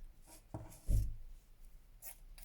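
Scissors cutting cheesecloth for cake toppers, a few soft, close snips and rustles of fabric, quiet, with one louder handling bump, no talk.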